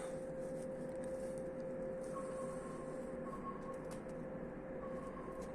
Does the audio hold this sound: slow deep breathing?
no